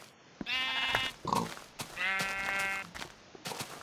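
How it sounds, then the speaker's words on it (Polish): Sheep in Minecraft bleat twice in quick succession, each a clear wavering baa, with a few soft thuds and clicks between them. "Tu jest owca. I to nie jedna."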